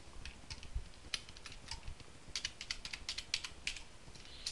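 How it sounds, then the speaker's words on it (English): Computer keyboard typing at close range, bursts of quick key clicks with short pauses between, no talking. "I'm just typing that in"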